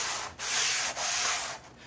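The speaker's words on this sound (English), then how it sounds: "So just lightly scuff it like this." Sandpaper of 150 grit lightly scuffs a wood finish in long, even strokes, a close, breathy rasp broken by brief pauses as the direction changes.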